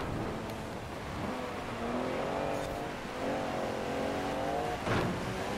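Racing car engines in Forza Horizon 4 rev and climb through the gears in a steady, moderately loud game soundtrack. Overlapping engine tones rise and fall as several cars pull close together, and there is no talk.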